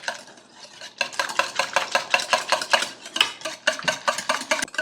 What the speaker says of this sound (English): I'm just gonna stir this up before we add in the chia.